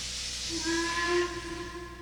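Steam hisses continuously from an elevated-railway steam engine while its whistle sounds in short, breathy toots that settle into a sustained tone.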